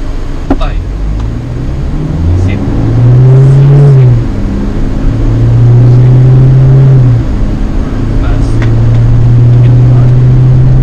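A Toyota Innova Crysta 2.8 V diesel engine pulls hard under acceleration, a loud droning hum rising in pitch through several gear steps, heard from inside the cabin with someone talking over it.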